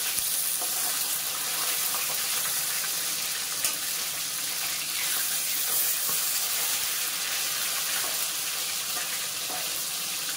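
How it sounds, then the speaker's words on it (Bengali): A piece of katla fish fries in hot oil until reddish, giving a steady close sizzle and crackle throughout with occasional small spits and no voices. "বেশ লাল লাল করে ভাজতে হবে মাছটা।"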